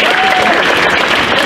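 Audience applause at a reading series event, a steady wash of clapping over a short stretch with faint voices mixed in.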